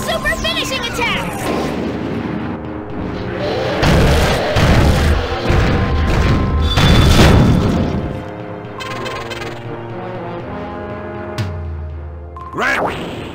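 A super finishing attack in the Mushiking arcade beetle-fighting game lands with heavy booming crashes and bursts, two big impact surges in the middle over game music, with an excited voice talking.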